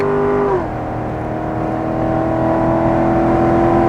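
Car engine in a racing drive pulling hard after an upshift: a steady, loud, sustained drone whose pitch drops once at the gear change, then climbs slowly and evenly as the car accelerates, with no talk over it.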